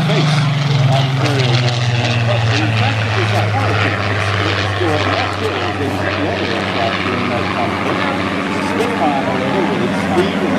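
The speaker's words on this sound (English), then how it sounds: "a lot of people say that the Spitfire was the aircraft that changed the face of the" A Spitfire flies at the Atlantic City Airshow with a loud, continuous propeller-engine drone and rumble throughout, while a voice speaks over it.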